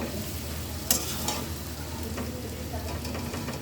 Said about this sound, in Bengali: আস্তে আস্তে সবজিটার সাথে আমি মিক্স করে নেব।